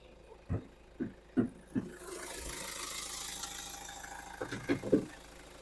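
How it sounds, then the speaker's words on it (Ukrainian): A 2012 Kia Sportage 2.0 diesel engine idles steadily at close range, a low continuous rumble, with several short knocks or clunks before and after. "Давайте подивимося, як працює двигун."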